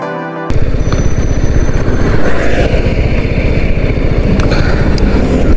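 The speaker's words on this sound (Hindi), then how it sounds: "मैं अगर छठे गियर पे चला रहा हूँ।" Motorcycle engine droning steadily in sixth gear while riding, a loud continuous rumble with wind noise close to the rider.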